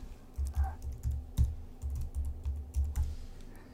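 A search being typed on a computer keyboard: a close run of irregular, soft key taps in quick bursts, with no one speaking.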